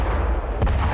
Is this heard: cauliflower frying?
no